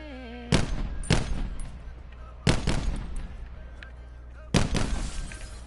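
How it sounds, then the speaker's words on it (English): Gunshots in a PS4 video game: three separate loud bursts spaced a couple of seconds apart, each a sharp crack with a short rattling tail, over a low steady game background and no talking. "I just like to shoot, I'm sorry."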